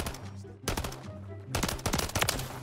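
Pistol fire in Modern Warfare 3, rapid sharp shots coming in bursts of several cracks each, loud and close, with game ambience between the volleys.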